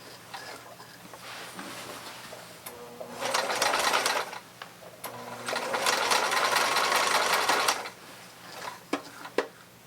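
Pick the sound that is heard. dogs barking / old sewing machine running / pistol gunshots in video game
old sewing machine running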